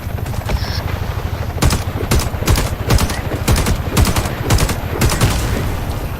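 Rapid gunfire in the shooter game Warface, a loud close string of regular shots in quick bursts over a dense rumbling battle background, with no talk.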